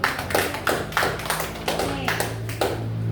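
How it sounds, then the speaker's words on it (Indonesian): A fifth-grade elementary classroom claps for group B during an Islamic religious education lesson, with bursts of hand claps in a loose, repeated rhythm and a steady tone humming underneath. "Kita kasih tepuk tangan yang kelompok B."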